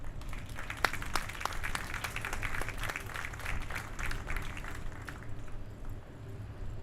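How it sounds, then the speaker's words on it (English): Audience applause at a National Maritime Day commemoration aboard a ship in Baltimore, a steady wash of clapping with a few sharper individual claps, moderately distant and sustained throughout. "Let's give them a round of applause."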